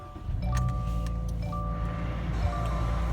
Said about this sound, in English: Let me start it up here for you.